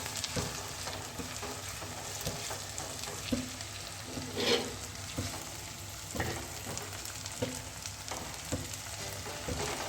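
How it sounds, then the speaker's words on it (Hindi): Chopped tomatoes fry in a pan with garlic paste for a white chickpea dish, making a steady, soft sizzle broken by occasional stirring scrapes and clinks. "और अब मैं इसमें डालूँगी कट किए हुए टमाटर तो थोड़ा सा मैं भूनूँगी इनके साथ"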